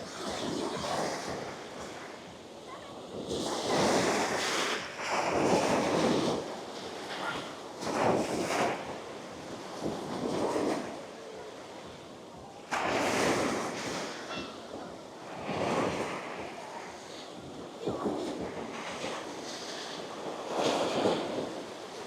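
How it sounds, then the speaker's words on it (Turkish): Rough sea waves surge and crash repeatedly on a beach at Çeşme, Turkey, after rain, a loud rushing roar rising and falling with wind buffeting the microphone. "O yüzden deniz biraz hırçın."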